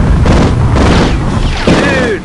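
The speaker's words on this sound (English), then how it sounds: "Sarge just took a direct missile to the face." A missile explodes in the Army Men: Sarge's Heroes game on PlayStation, a loud, dense roaring blast that stays continuous and fills the clip, with a voice speaking over the rumble.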